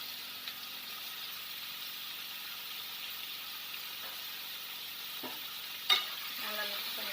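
Chopped Malabar cucumber is added to a pan and stir-fried, giving a soft, steady sizzle with a few light scraping stirs and one sharp clink near the end.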